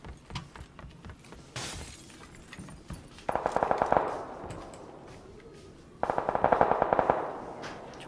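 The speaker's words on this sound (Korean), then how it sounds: "총소리 많이 나는데" Distant automatic gunfire crackles in PUBG on the Vikendi map, with two rapid bursts of rattling shots separated by a few seconds of quieter background.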